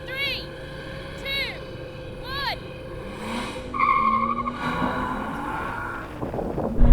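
BMW M5 cars launch in a drag race, with repeated sharp tire chirps and squeals over a droning engine that swells louder toward the end while someone talks excitedly over it.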